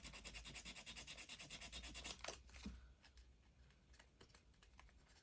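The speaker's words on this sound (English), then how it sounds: "what I'm going to do is I'm just going to sand the edges" Faint, rhythmic rubbing strokes of sanding along the edges of a paper envelope during a craft project, a fast steady scratching that stops and gives way to quiet handling sounds.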